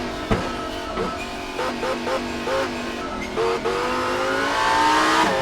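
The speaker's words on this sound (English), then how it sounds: "The sound of the engine certainly helps you with knowing what's what as far as acceleration and braking." Race car engine in the rFactor 2 racing game, revving and shifting steadily through gears with rising pitch sweeps and brief drops between shifts, loud and continuous with no talk.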